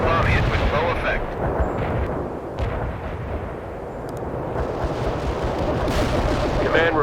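Dense, continuous rumble of cluster bomb blasts and gunfire in the war game World in Conflict, heavy and sustained with sharper cracks scattered through, loud throughout.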